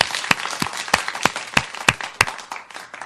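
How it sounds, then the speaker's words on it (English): A studio audience on a radio show claps for a guest, sharp irregular claps scattered over about three seconds, close and fairly loud with no talking. "I want, again, a rousing round of applause for our friend Nick Bucci."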